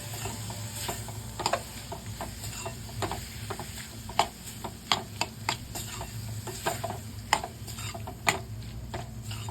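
Jaggery is stirred in a pan until it melts for rava puran poli, with a spoon scraping and tapping the pan in irregular strokes over a steady low hiss, close and fairly quiet.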